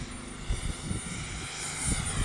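Su-27 Flanker twin 64mm EDF model jet screaming at full throttle, a loud, steady high-pitched ducted-fan whine with a roaring rush, swelling slightly toward the end, no talk.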